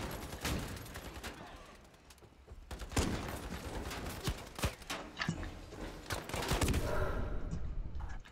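Sniper-rifle and other gunfire in the shooter game Ironsight crack out in sharp, irregular shots, some near and loud, others distant, amid general battle noise.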